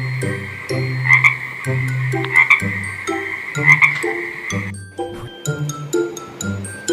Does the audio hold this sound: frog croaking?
yes